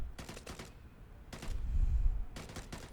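Tap-fired rifle shots in Vigor come in short bursts of two or three quick cracks separated by pauses. A low rumble swells in the middle.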